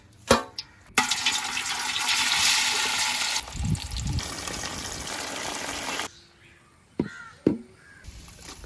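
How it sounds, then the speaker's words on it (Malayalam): Green chillies hit hot oil for a Kerala-style fish fry, setting off a loud, steady sizzle that lasts about five seconds before cutting out, followed by a few faint clinks. "പച്ചമുളക് എണ്ണയിലിട്ടൊന്ന് മൂപ്പിച്ച്"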